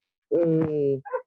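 Dog at an animal sterilization center in Bogotá, crowded with dogs and cats, giving one sustained whining bark followed by a brief higher yip, close and clear.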